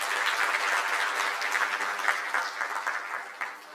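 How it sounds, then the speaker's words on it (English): Audience at a mental wellness and counselling breakfast conference applauds the panelists with steady, dense clapping that fades slightly toward the end. "Another round of applause for our panelists."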